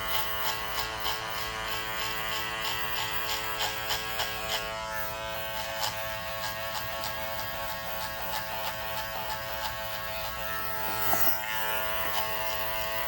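An Andis hair clipper fitted with a number 3 attachment comb buzzes steadily and close on a mannequin head, a constant electric hum with rhythmic faint clicks as it cuts, and no talk.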